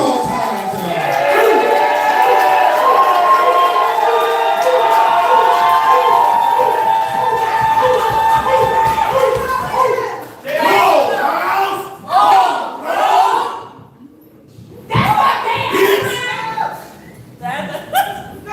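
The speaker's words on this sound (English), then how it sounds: "Please, clap like some penguins for Charles Hyde, the Charles Hyde tonight." An audience at a poetry slam cheers and hollers loudly for a poet in a dense, sustained crowd roar. It breaks into choppier bursts of yelling, clapping and laughter, with a voice calling out over it.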